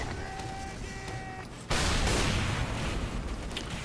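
Gunfire in a team shooter video game match on a control-point map, with a loud burst of shots and blasts cutting in partway through, dense and continuous over fainter game tones and effects.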